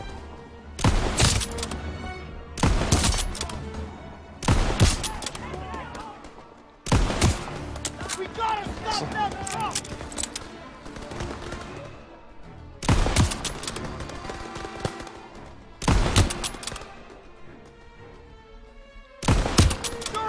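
Repeated bursts of in-game gunfire from Call of Duty: WWII during a campaign ambush, loud and close, coming in short volleys every couple of seconds with sustained shooting in between, while a player talks over it.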